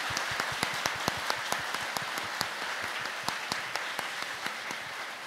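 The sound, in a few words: applause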